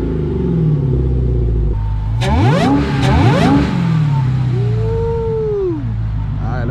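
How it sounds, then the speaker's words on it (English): Supercharged Dodge Challenger Hellcat Redeye engine starting up and revving, a low idle rumble that jumps into rising and falling throttle blips mid-clip, then settles back to a steady idle, loud and close. "I'm gonna get it started real quick, and then we're gonna get that Hellcat wine."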